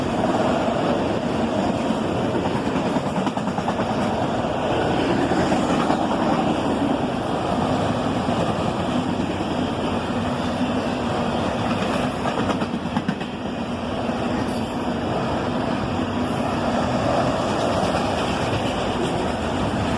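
A southbound CSX autorack train led by two SD50-3 DC locomotives rolls past, a steady, loud rumble of rail cars and wheel clatter that holds without a break from start to finish.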